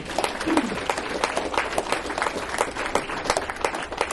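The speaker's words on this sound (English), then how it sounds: "how about a round of applause for Brian and his team?" An audience at a holiday gathering applauding a chef and his team, with dense, steady clapping at close range and a few cheers mixed in.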